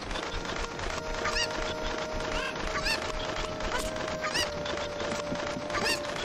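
Chickens in the video game Ocarina of Time, Kakariko Village, giving a few scattered squawks and clucks over a steady background, fairly close, with no talk.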